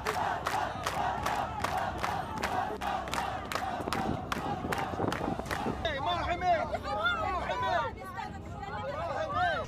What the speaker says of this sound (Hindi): ये भीड़ हिब्रू भाषा में नेतन्याहू वापस जाओ के नारे लगाने लगी।